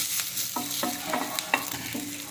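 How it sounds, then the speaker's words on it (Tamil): Pepper chicken stir-fried with curry leaves in a pan, an oily sizzle with a few sharp scrapes and clacks of the spatula against the pan, close up and moderately loud, no talking. "கொஞ்சோண்டு கருவேப்பிலை அது தூவிட்டு நல்லா ஒரு பரட்டு பரட்டிட்டு"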